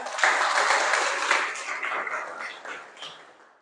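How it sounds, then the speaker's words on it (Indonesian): Students clap for a classmate during a vocational class on wheel and tire balancing, a burst of clapping that starts strongly and gradually thins and fades out over a few seconds. "Tepuk tangan untuk teman kalian."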